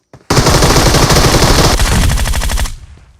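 Sustained automatic gunfire in PUBG Mobile, a loud rapid burst of shots lasting over two seconds before cutting off, with no voices.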